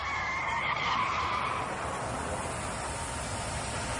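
A car's tires skid across a road surface in a long, loud screech that peaks early and holds steady before easing, with no talk over it.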